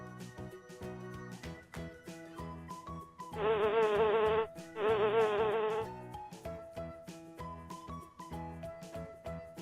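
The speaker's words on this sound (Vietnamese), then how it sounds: "Con ong, con ong." A bee's buzzing drones in two loud bursts of about a second each, separated by a short gap, over light tinkling children's music that continues before and after.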